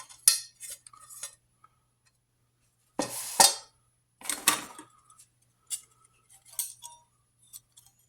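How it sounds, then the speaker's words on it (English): Metal clinks and rattles as World War I era GI silverware and a mess kit are handled, in short bursts separated by quiet gaps. "World War I era silverware."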